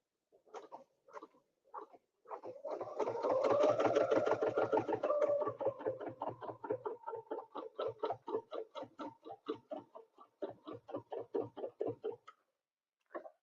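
A sewing machine doing edge-to-edge ruler quilting on a snowflake pattern, a fast rhythmic stitching patter that runs in bursts with brief stops, fairly quiet and alone.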